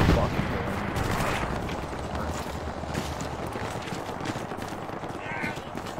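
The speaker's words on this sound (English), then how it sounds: "that means there's a machine gun" Rapid machine gun fire and gunshots from a mobile war video game crackle in a dense, continuous barrage, with players' voices talking over the din.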